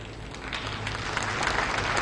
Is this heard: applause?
yes